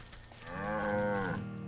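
A single cow in the video game Wytchwood gives one short, clear moo, rising and holding briefly before trailing off, alone and close.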